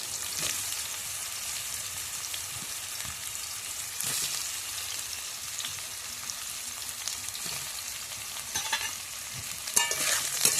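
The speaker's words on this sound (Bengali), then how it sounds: "তারপরে একটু নাড়াচাড়া করে দেবে, নাড়াচাড়া করে রেখে দেবে একটু ভাজা ভাজা হয়ে যাওয়ার জন্য" Pieces of green banana sizzle steadily in hot oil in a Bengali kitchen, with a utensil stirring and scraping the pan. Occasional louder scrapes break in, and no one speaks.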